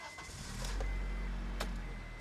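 A 2002 Acura Integra RSX engine cranks and rumbles into a low, steady idle, close and fairly loud, with a couple of brief clicks on top.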